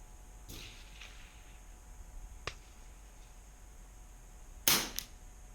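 A single sharp crack from a Cooey Model 78 rifle fired at a target outdoors, preceded by a couple of fainter clicks, with quiet background hiss around the shot.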